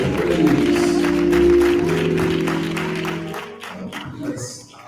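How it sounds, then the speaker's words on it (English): A church congregation claps in praise, a dense stream of hand claps at moderate distance mixed with voices and a held musical tone, fading toward the end. "let's give the Lord another hand clap for praise."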